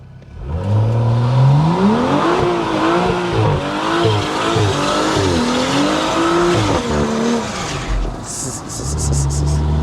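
A BMW M135i accelerates hard from a launch, its engine note climbing loud and close through rising gears while the tyres squeal and scrabble for grip, ending in a brief lift and a few short pops.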